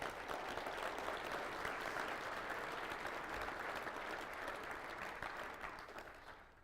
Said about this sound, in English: Please give a round of applause to our volunteers as well.